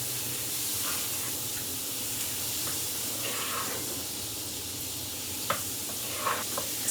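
Homemade garlic puree frying in butter in a pan, a steady close hiss and sizzle with a few small spatters and faint stirring scrapes toward the end, no talk.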